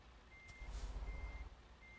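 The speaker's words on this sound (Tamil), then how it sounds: "அப்போனா நம்ம வண்டி இப்போ ரிவர்ஸ் தான் எடுக்கணும்." Truck reversing alarm in the American Truck Simulator game, a thin, faint repeating beep tone pulsing at a steady interval over a low engine rumble.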